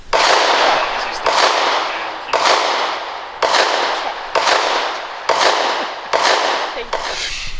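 A Thompson Center TCR22 .22 rifle fires a rapid, evenly spaced series of about eight loud, close shots, each with a short echoing tail.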